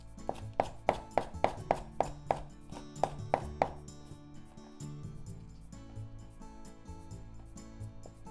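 A knife slices halved vegetables diagonally on a cutting board as a garnish for a shrimp and egg bowl: about ten crisp, evenly spaced chops, then quiet kitchen background with a low hum.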